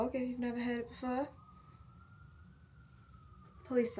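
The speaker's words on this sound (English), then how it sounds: "Police sirens." A police siren wails on a New York City night, a long rising and falling tone that stays faint and steady in the middle, with a person talking briefly before and after it.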